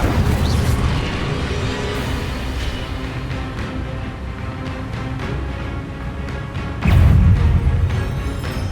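Fiery spell blasts in Hogwarts Legacy, an Incendio fire spell among other casts, rumbling as dense, loud booms over a busy game soundscape, with a heavier burst near the end.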